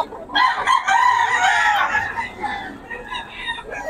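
A rooster crows loudly and close by, one long drawn-out call followed by softer clucking.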